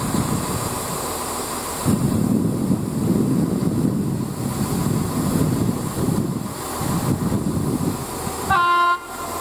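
EWS-liveried Class 66 diesel locomotive 66170 rumbles past a station on the Great Western Main Line at Didcot Parkway, a loud steady diesel and wagon roar with wind buffeting, ending in a short horn toot.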